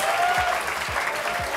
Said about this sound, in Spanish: Un aplauso a toda la gente que está viendo el stream también